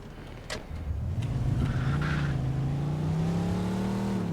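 Engine of a car in the video game Mafia 2 drones steadily and loud at speed, its pitch holding high and slowly climbing as the car keeps racing, with no talk over it.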